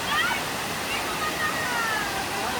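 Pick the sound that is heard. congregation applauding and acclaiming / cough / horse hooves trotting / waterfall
waterfall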